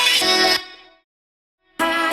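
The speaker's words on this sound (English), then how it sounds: "what you're hearing right now is just coming from vocal synth" Vocoder vocal chops produced with iZotope Vocal Synth, bright buzzy synthetic chord tones in two short stabs with a gap of silence between, the first stab fading out into a ringing tail.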